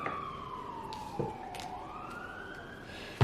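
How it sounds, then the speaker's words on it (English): An ambulance siren passes by outdoors, its wailing tone sliding downward and then back up as it moves past, moderately loud and steady with no talking over it. "Sorry for the ambulance driving by."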